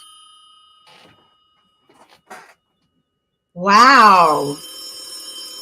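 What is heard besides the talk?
telephone ringing with an incoming call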